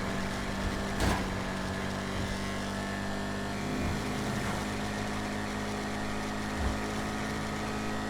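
The HSW Firebolt ASP sports car engine in GTA Online drones at high revs, steady and loud, with brief bumps and thuds along the way, no talking.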